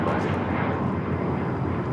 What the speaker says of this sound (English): United Airlines 2614 taking off to Houston Intercontinental on the MAX 9.